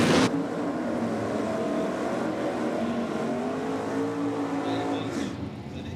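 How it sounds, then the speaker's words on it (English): At a drag strip, a Datsun and a Chrysler Centura do burnouts, a loud sustained engine roar with shifting, rising revs and tyre noise that fades slightly near the end. "Joe Sorbello in the Datsun taking on Tim Fryer in the Chrysler Centura. Strong burnout"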